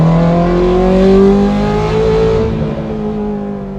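A Ferrari engine revs loudly and close up, its high-pitched, harmonic wail climbing and then easing off over a few seconds.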